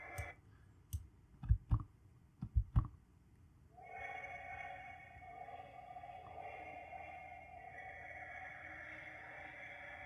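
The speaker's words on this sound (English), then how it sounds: "And now we have a very strange ghosty sound." Reversed sound treated with delay and reverb: a few sharp clicking bursts at first, then a sustained, eerie smeared wash with a hollow tonal ring trailing on, moderately quiet.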